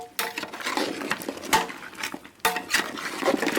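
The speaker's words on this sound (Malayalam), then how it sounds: "ഇത് നമുക്ക് ഇളക്കാം." A spoon scrapes and clinks against a cooking pot while beef curry with ground spice masala is stirred, giving close, irregular metallic scrapes and knocks with no talking.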